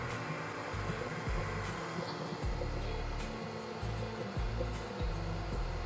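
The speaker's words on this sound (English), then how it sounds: "wall mount 600 CFM dust collector. It's probably about 10 foot away from me." A wall-mounted 600 CFM dust collector about 10 feet away runs with a steady, loud whooshing drone and low motor hum, with slight fluctuations and no voices.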